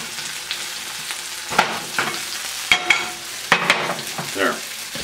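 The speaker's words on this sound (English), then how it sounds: "we have got our vegetables sauteing" Vegetables sautéing in a pan for an omelet, a steady close sizzle broken by several sharp scrapes and taps of a utensil stirring them, with no talking.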